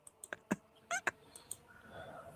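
A cat meowing at a window, a few short meows mixed with light clicks and taps, fairly close and alone without talk.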